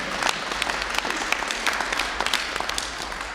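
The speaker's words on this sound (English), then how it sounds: "you can clap again" Steady applause from an audience at a community award ceremony honoring a Hero of the Month in Brooklyn, with dense overlapping claps of even loudness throughout and no speech over it.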